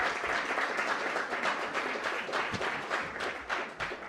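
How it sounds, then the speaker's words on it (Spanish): An audience at a political rights forum applauds a female moderator, a steady, even round of clapping that fills the room without pause, no voices heard over it. "Y ahora sí le damos un fuerte aplauso a la moderadora."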